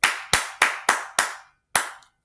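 A single person claps a slow rhythm: five evenly spaced, sharp, close claps, then a short gap and one final clap, each ringing briefly in a quiet room.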